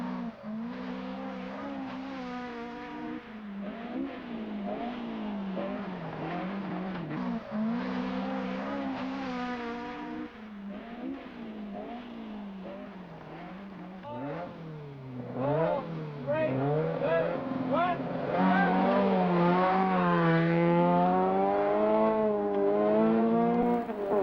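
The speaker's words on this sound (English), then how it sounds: "He wades through the mud to take 2nd place." A rally car engine revving hard and continuously, pitch rising and falling through gear changes, with tires squealing as it accelerates through mud during a race.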